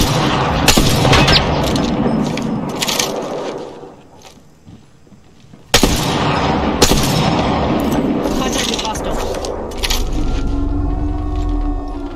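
Gunfire in the video game Apex Legends: loud sharp bursts and booming shots, with a brief lull before heavy firing resumes, layered with clattering mechanical effects.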